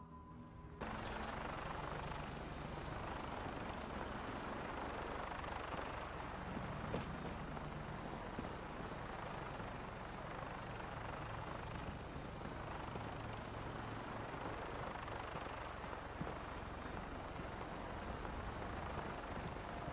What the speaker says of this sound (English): Makes a spinning rotor sound, even though the rotor is not actually spinning.